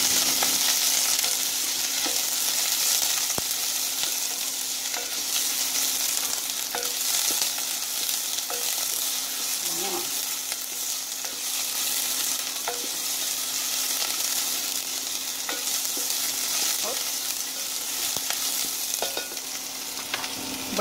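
Food sizzles and fries steadily in a pan while a utensil stirs it, with occasional scrapes and clinks over a constant close hiss.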